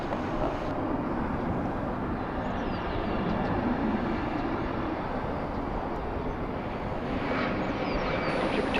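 Airliner taking off at DFW International Airport, a steady broad jet roar that holds loud and constant throughout, heard from outside at a distance.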